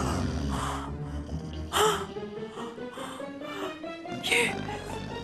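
A woman playing a queen in a comedy scene snores loudly, with several exaggerated snorting bursts at irregular intervals over a low, steady background.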